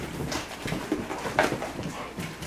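Puppies whimper and yip in short bursts at close range, some brief higher cries standing out over a busy indoor background of movement and faint voices.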